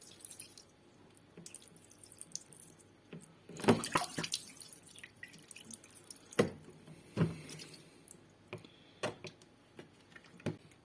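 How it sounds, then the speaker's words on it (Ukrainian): Water drips and trickles from a Bosch dishwasher opened for repair, scattered faint splashes and taps at irregular intervals in a quiet room, with no one speaking. "Трошки водички вилилось, потрібно щось застеляти знизу."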